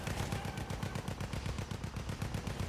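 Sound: machine gun firing in a video game

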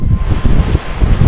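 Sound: wind

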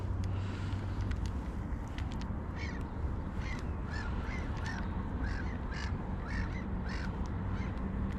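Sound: seagulls calling over water while fishing

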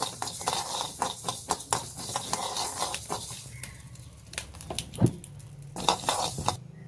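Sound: mustard seeds added to roasting fenugreek in a pan

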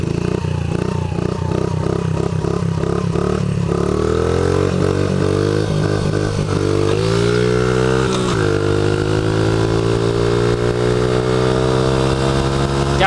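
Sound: Honda CRF50 motorcycle engine running

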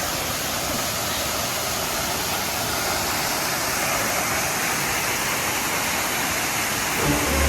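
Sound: Tham Yai waterfall at Phu Kradueng

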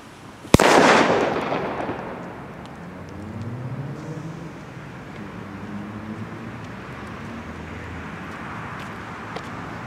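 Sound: Di Blasio Elio Cobra 3BP4 firecracker exploding

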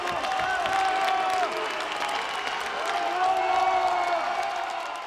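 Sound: audience applause for an artist

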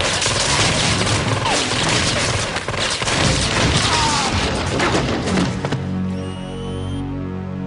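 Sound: gunfire in a shootout

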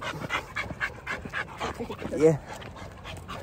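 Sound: dogs panting and whimpering on a walk

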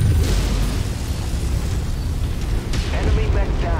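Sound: artillery explosions in the video game Mechwarrior 5

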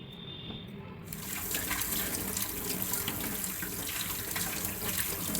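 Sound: washing cauliflower pieces under running water

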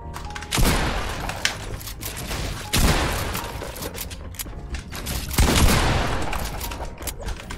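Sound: Gunfire from a bot shooting in a video game

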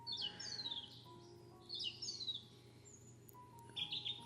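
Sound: birds singing

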